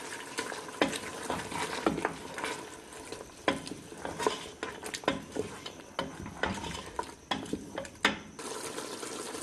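Almond paste for a mutton badami korma stirred and fried in a pan, with steady sizzling broken by repeated scraping stirs of a spoon at an irregular rhythm, close and moderately loud, no talking.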